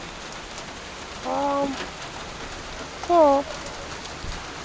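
Steady rain falls outdoors during repair work on a Peugeot 407, a continuous hiss that stays level throughout while someone speaks briefly twice over it.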